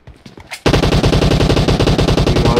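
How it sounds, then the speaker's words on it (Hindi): Rapid automatic gunfire rattles in a battle royale shooter video game, a loud, close, continuous burst of evenly spaced shots that starts abruptly after a quieter moment of faint footsteps and noises. "लेफ्ट से फायर भी आई"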